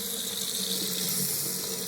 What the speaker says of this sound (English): We got running water.